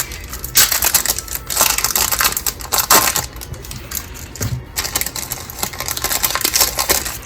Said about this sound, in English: Open up the next pack